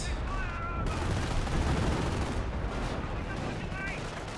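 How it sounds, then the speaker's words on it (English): Squad gunfire in the video game Company of Heroes, dense continuous rattling rifle and machine-gun fire with a rumbling low battle roar throughout, loud and sustained, with a commentator talking over it. "Our squad's firing away"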